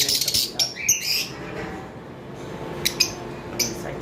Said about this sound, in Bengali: এক পেয়ার গ্রিন অপালাইন রয়েছে আমাদের দেখতে পারতেছেন গ্রিন অপালাইন